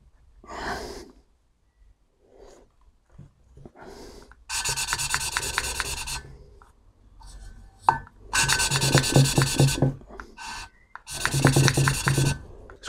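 Engine valves are lapped into their seats by hand, making scraping, gritty rubbing strokes in repeated bursts of a second or two. Quiet pauses separate the bursts, with faint handling noises between them.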